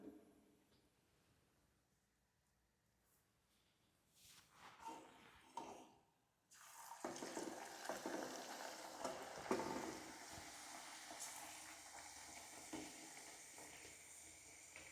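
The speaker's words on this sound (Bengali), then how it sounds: "আমি আরেকটার মধ্যে তেলের মধ্যে লুচি দিয়ে দিয়েছি।" Luchi frying in hot oil, a steady, bright sizzling hiss that starts abruptly after a quiet stretch with a few soft handling sounds, then continues loud and constant.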